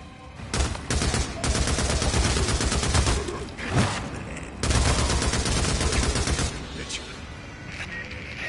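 Sustained automatic gunfire in Days Gone as an enemy is shot: long, loud, rapid bursts close by with brief pauses between them and a voice talking over the shooting.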